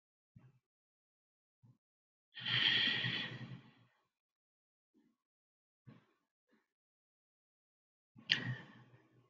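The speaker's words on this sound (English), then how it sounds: "we're going to begin by taking some long, slow, deep breaths in order to center ourselves" Slow, deep breathing during a guided meditation: one long, soft exhale in the middle and a sharper breath near the end, spaced between quiet pauses with small faint breath sounds, close and gentle.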